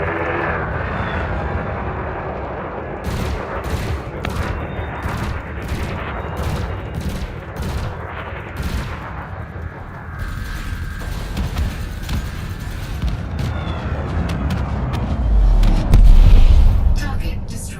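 Rapid multi-cannon fire and explosions from a spaceship fight in the space game Elite Dangerous, a long loud stream of shots with a heavy booming blast near the end over a constant engine rumble.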